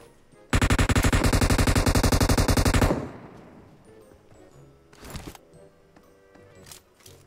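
Automatic gunfire in the battle royale game PUBG rattles out in a loud, rapid sustained burst of about two seconds, followed by quieter scattered shots and faint noises.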